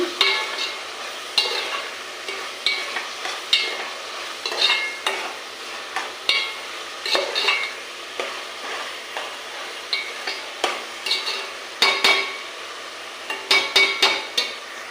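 Onions with turmeric and salt fry in a pan, a soft steady sizzle broken by repeated sharp taps and scrapes of a spatula against the metal, close and without any talking.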